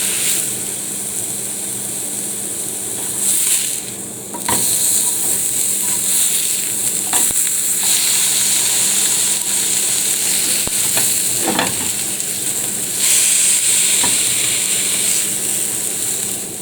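Ox liver frying in a pan gives a loud, steady sizzle and hiss throughout, close up, with a few brief clinks and scrapes from cooking tools.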